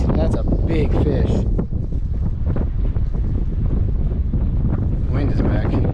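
Strong wind buffets a microphone on a fishing boat on open water, a loud rumbling gusty roar with splashing waves, and a voice talks briefly under the noise.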